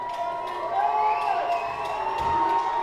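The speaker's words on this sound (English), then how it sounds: "South Haven getting loud here at MLK Junior Park." A home crowd cheers at a high school football game at MLK Junior Park in South Haven, a dense, steady roar of voices that holds loud through the whole moment.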